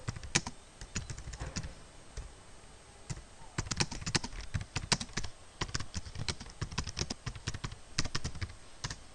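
Steady typing on a computer keyboard, close and crisp, with bursts of rapid key clicks and short pauses between them, while a Java program is written. No voices.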